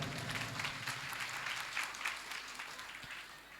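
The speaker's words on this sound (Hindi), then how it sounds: "आप हमें जोरदार तालियों से महाराज जी का आभार व्यक्त करें" An audience at a Bhagavat Katha gathering in New Delhi claps in a steady, fairly distant wash of applause that slowly fades.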